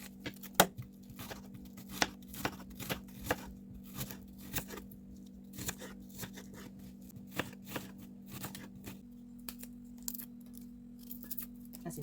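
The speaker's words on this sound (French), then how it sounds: "On va commencer par couper l'oignon." A knife chops an onion on a board with a steady run of sharp, close taps, irregularly spaced, over a constant low hum.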